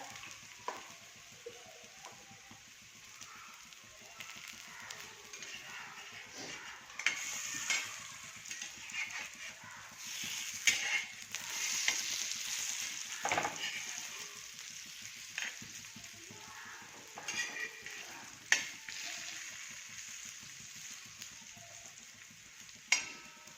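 Shipli vadi sizzle and crackle on a very hot tawa over a gas flame, a steady, fairly quiet frying hiss with occasional sharper pops and scraping touches throughout.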